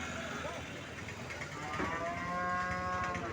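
A cow at a busy cattle market in Anantapur lets out a loud, drawn-out moo that swells in the second half over a constant crowd murmur and livestock bustle.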